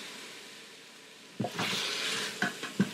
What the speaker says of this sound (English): give it a nice stir to get it all mixed together with the flavor